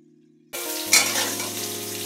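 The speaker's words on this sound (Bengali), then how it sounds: "একটু ঢাকা দিয়ে দিয়ে ভাজবো, যাতে একটু সেদ্ধও হয়ে যায়, একটু লালও হয়ে যায়" Potatoes and green banana frying in hot oil in a covered pan, a sudden loud sizzle starting after a short quiet moment, with a sharp burst of spattering followed by steady crackling frying close by.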